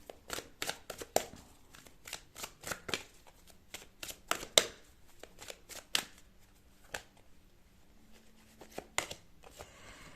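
Tarot cards being shuffled for a pick-a-card reading, close and crisp, with irregular bursts of riffling and tapping separated by short quiet gaps.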